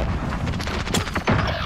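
Grenade blast in Call of Duty Warzone (Cold War season), a dense booming burst with gunfire-like cracks, followed by a second heavier thump near the end, loud and close over broadband battle noise.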